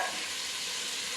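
Butter melting and being stirred in a saucepan gives a steady, close sizzle with soft stirring scrapes throughout, and no talking.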